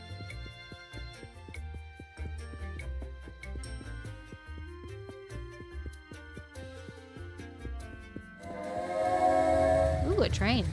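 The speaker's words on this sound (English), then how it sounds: "Ooh, a train." Train passing with its horn in the Little Rocket Lab video game, a rhythmic rolling rumble with layered game music over it, building to a louder sustained blast near the end.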